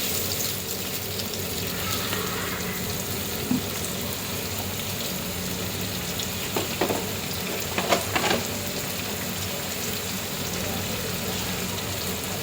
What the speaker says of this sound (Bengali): এখন ভালো করে পেঁয়াজটা একটু ভেজে নিই।